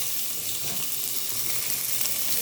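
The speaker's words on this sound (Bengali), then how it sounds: "আমার তেলটা গরম হয়ে গেছে এখন দিয়ে দেবো পেঁয়াজ" Chopped onions sizzling in hot oil in a pan while cooking Arabic kabsa, a steady, dense hiss that stays even and close throughout, with no voices.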